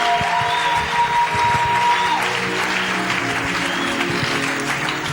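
Applause fills a church as a congregation claps together, steady and dense throughout with no voices rising above it.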